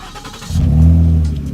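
A car engine fitted with a new straight pipe exhaust cranks briefly, then catches and fires into a loud, deep, raspy rumble that swells and settles, close and alone.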